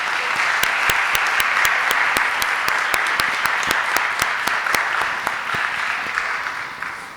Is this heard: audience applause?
yes